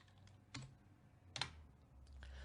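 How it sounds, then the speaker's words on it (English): Keys clack on a computer keyboard in a quiet room, a few sparse, irregular taps with two sharper strikes standing out, close and faint, with no voices. "I can't type any faster than this"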